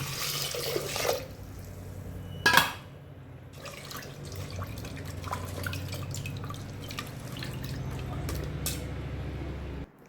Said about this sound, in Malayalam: ഒന്ന് വെള്ളം ഒഴിച്ച് നല്ലപോലെ ഒന്ന് കഴുകിയെടുക്കാം